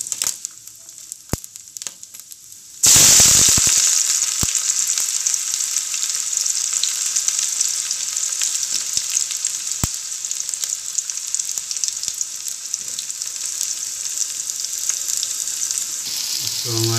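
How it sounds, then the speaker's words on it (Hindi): Onions tossed into hot oil give a sudden loud sizzle after a quiet start, then settle into a steady, close frying hiss with faint stirring clicks that carries on to the end. "तो हमारी प्याज पड़ चुकी है और हमारी प्याज अभी भुना रही है"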